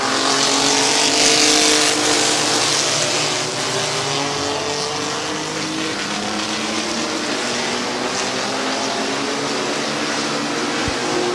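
Mini trucks racing around the Midvale Speedway, a loud continuous engine roar with several motors droning and shifting pitch as the pack runs through traffic toward the finish, with no voices over it.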